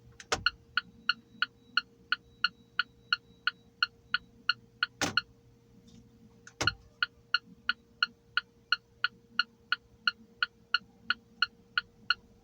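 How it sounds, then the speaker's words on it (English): An Alfa Romeo 4C turn signal ticks steadily about twice per second, crisp and close, over a low engine hum, with two sharper clunks partway through. "here's the Alfa Romeo's turn signal sound"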